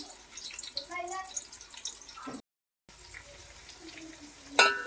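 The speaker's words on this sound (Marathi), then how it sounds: "कांदा हा चांगला लालसर भाजून घ्यायचा आहे, लाल होईपर्यंत।" Chopped onion and green chilli sizzle in hot oil with whole cloves and cardamom while cooking for a chicken curry. A soft, steady frying hiss runs under someone speaking, and there is a brief silent gap.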